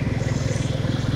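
A tractor passes on a village road near the Bangalore–Hyderabad highway at Peresandra, its engine putting out a loud, steady, low diesel thump with a fast regular chug throughout, close to the listener.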